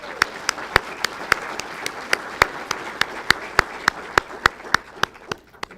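A gala civic dinner audience in Tustin applauds its event sponsors, heard as a moderate, fairly even patter of claps, with a run of sharp individual hand claps punctuating it at a steady rhythm close to the mic.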